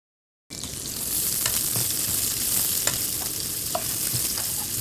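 Two medium onions frying in a pan: after a brief silence a loud, steady sizzle starts and holds, with occasional faint stirring ticks and no voices.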